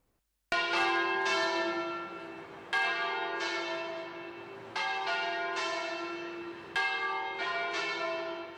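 Church bells toll outside the church in Mestrino as a newborn's small white coffin is carried out after a funeral; loud, ringing strikes start after a brief silence and sound every couple of seconds with long overlapping decays, no voices.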